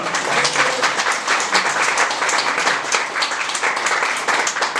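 A church congregation claps during a Sunday service: loud, steady, densely packed applause that fills the whole stretch without a break.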